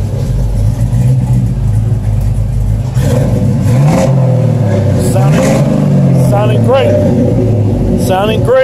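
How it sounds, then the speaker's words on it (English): An old Chevy C10 pickup, a 1972 with a Vortec engine swapped in, revs repeatedly close by, with a rumbling engine rising and falling under someone talking. "Sounding great. Got a Vortec motor in the old truck."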